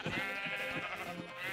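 A sheep in the Minecraft video game bleats in a wavering, nasal cry, close and fairly clear, lasting over a second.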